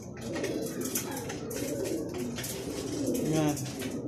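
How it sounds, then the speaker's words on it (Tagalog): Racing pigeons coo softly while feeding after a long-distance race, their low, repeated coos sounding close and fairly quiet over a busy background of rustling and faint chatter. "pinakain na natin yung mga ibon natin kasi nakapagpahinga na naman sila at nakainom na sila ng magic water natin"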